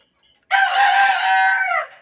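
A white rooster lets out a single loud, close crow lasting just over a second. Near silence surrounds it.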